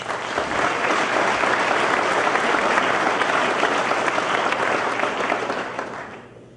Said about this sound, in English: Let's give Dick a round of applause.